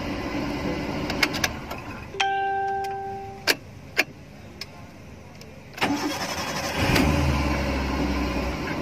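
A Maruti Suzuki Wagon R with an immobilizer starting problem and a check engine light: close-up clicks and a short run of tonal beeps, then the engine cranks, catches and runs with a low steady rumble.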